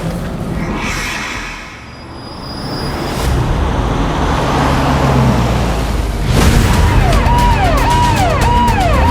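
A car drives, slows, and turns around on a road, engine and road noise rising and falling, loud and close.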